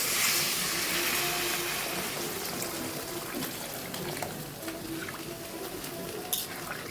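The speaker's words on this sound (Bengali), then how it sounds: "এবার আমি গরম জল দিয়ে দেবো।" Hot water poured into a pan of spiny eel fish curry with potatoes: a steady close rush of liquid that slowly eases in strength, with faint sizzling and no talk.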